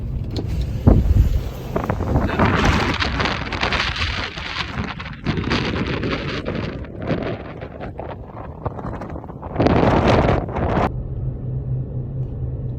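Strong storm wind gusting around a truck beside swaying power lines, rendered as a loud, continuous roaring rumble that surges and eases in gusts throughout, with no talking.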